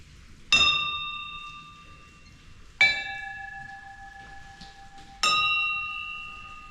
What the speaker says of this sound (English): The original bells.